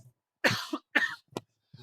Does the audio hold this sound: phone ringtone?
no